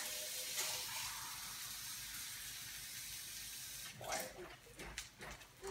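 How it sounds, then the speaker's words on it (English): Steady rushing of hot water being poured into a pan of Spanish rice, with a few light clinks and knocks near the end. "this is hot water I'm adding here"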